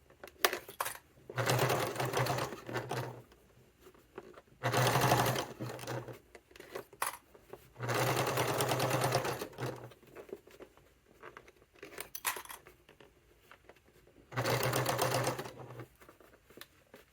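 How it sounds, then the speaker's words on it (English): A sewing machine bastes fabric for a satchel, stitching in several quick bursts of rapid mechanical patter separated by short pauses, close and clear with no talking. "Now I'm just going to baste that in place."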